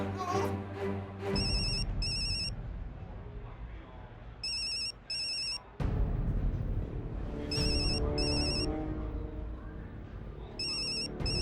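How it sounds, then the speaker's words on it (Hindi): A telephone rings in a TV sitcom scene from Taarak Mehta Ka Ooltah Chashmah, in repeated double bursts of a shrill electronic tone, three or four rounds, over a busy background of voices and music. "पिंकू को फोन करता रहे बेटा।"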